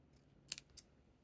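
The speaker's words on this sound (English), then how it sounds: "cut the outer paper" Scissors snip quilling paper in two quick, crisp cuts close up in a quiet room, the first a double snip and the second a single clean one.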